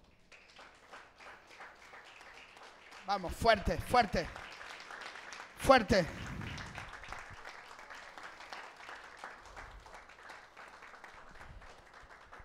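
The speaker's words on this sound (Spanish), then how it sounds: "Dele un aplauso grande a nuestro Dios." A church congregation breaks into loud applause and cheering during a Spanish-language service, two strong surges of clapping over ongoing background noise while a preacher keeps speaking and urging them on.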